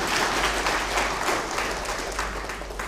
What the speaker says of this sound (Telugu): ఇప్పుడు మీకు నమ్మకం ఉంటే కొట్టండి చప్పట్లు